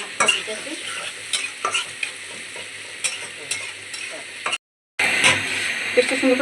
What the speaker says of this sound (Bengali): পেঁয়াজটা সুন্দর করে ভাজা ভাজা হয়ে গেছে